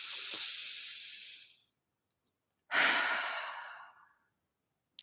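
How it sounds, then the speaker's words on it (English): A person takes two slow, deep breaths during a relaxation session, a long exhale followed after a pause by a fuller breath in and out, close and clear against silence. "let's go ahead and take a breath"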